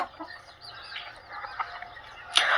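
Free-range desi chickens in an open-area, low-cost shed farm give soft, scattered clucks and chirps at a moderate distance, ending with one brighter, sharper call.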